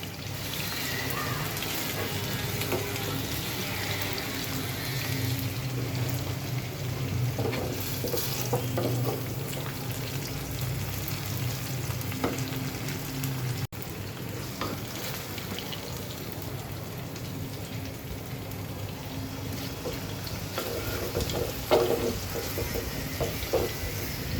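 Vegetables frying in a pan for a baghar tempering, a constant low sizzle with intermittent stirring and light scraping over a long stretch, with no voices.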